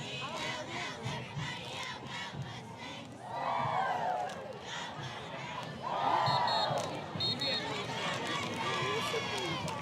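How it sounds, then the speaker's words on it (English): Mustang cheerleaders at a middle school football game shout chants in rising bursts over a noisy crowd, with two louder cheering swells, heard from some distance. "And the Mustang cheerleaders are feeling it."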